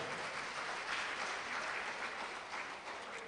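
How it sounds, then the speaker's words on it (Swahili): A dense, steady wash of audience applause fills a live South Africa–Tanzania cultural event, many hands clapping at once, distant and evenly sustained without pauses. "Pigeni makofi mengi sana kwa Biblia tena"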